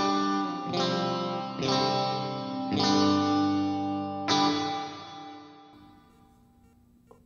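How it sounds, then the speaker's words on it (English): An 80s guitar multi-effects processor's hall reverb on four sustained guitar chords, each struck strum blooming into a long washy tail before the last one fades out alone, with no talking. "Reverb number one hall."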